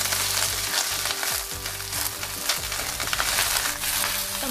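Mustard greens stir-fried in oil with garlic and ginger, a dense continuous sizzle with scraping stirring strokes in a pan, fairly close and steady with no talking.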